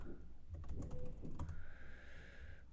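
Quick bursts of clicking on a computer keyboard, soft and close, with a short run of keystrokes followed by a quieter stretch.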